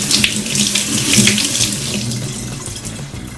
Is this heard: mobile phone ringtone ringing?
no